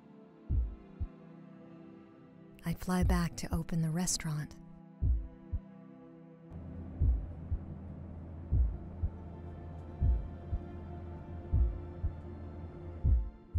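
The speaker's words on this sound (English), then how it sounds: "there's the heartbeat again" Deep thumping heartbeat sound effect from the video game Hindsight, repeating in a steady slow rhythm under background music, with a voice narrating over part of it.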